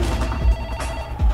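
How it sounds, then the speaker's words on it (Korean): Telephone ringing with an incoming call in a Korean TV current-affairs segment, two short electronic rings at about half a second and at the end, standing out over a low background bed. "그런데 지영 씨에게 전화가 왔습니다"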